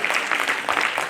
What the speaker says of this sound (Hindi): ताली जोरदार वाली होनी चाहिए हमारे